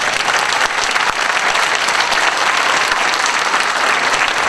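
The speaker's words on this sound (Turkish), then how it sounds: "ben konuşunca siz sanki beni alkışladığınızı zannediyorsunuz ama aslında kendinizi alkışlıyorsunuz" An audience at an İYİ Party political speech applauds loudly and steadily, a dense, continuous wash of clapping with no break.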